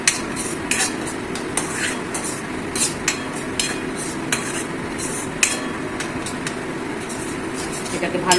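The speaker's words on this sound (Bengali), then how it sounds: "এটাকে ভালো করে তেলের সাথে মশলার সাথে পালং শাকটাকে ভেজে নিতে হবে" Spinach fries in oil with ginger, green chilli and garlic paste, giving a steady sizzle under frequent clinking and scraping of a spatula against the pan, close and fairly loud, with talk running over the top.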